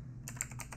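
Quick keystrokes on a computer keyboard, typed at a desk while a web address is being entered, about five crisp, close taps in an uneven rhythm over a steady low hum, with no voice.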